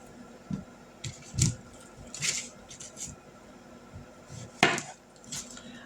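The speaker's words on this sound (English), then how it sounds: "So let's get to cutting them up." Knife chops and clacks as washed squash is cut on a board, irregular sharp hits close by with a few louder strikes and quiet gaps between them, no speech.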